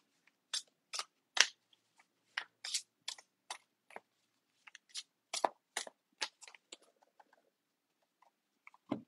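Sharp papery bursts of tarot cards being riffled and snapped repeat irregularly in a quiet room, about a dozen short flurries separated by brief pauses.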